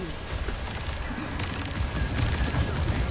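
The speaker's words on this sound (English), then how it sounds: "that's a whole ass machine gun" Rapid machine gun bursts and other gunfire in a shooter video game, dense continuous crackling close by, with a voice speaking briefly over the shots.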